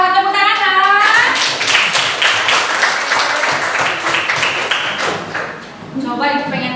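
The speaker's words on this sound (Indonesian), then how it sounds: "Tepuk tangan dong." Schoolchildren clap together in a classroom, a lively burst of rhythmic claps, loud and close, led by a teacher speaking briefly at the start and again as the clapping ends.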